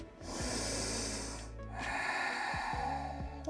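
A slow, deep breath in during a hip-focused yoga exercise, close and steady, an airy nasal inhale that pauses briefly and then continues, with no talk over it.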